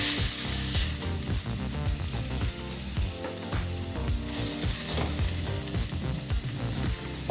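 Paella ingredients sizzle and fry steadily in a hot pan while being pressed flat, with scraping and clinking from a utensil mixed into the continuous crackle.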